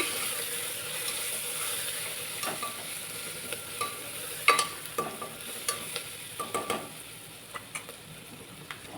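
Coriander-cumin powder and ginger-garlic paste being stirred in a pan, a soft steady sizzle under intermittent scraping clicks of a spoon against the metal, moderately close with no talk.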